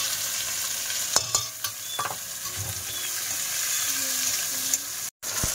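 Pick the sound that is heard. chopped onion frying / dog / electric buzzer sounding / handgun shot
chopped onion frying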